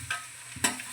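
Tomatoes and green chillies drop into a frying pan with browned onions for a Kerala-style pork fry, giving a short sizzle and a quick clatter of stirring that rises in a burst near the end, close and fairly quiet.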